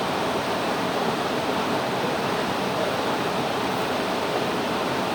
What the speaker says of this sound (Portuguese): eu tô na cachoeira